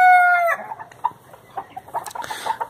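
A rooster crows loudly and close by in a backyard chicken coop, then several hens cluck in short, scattered bursts.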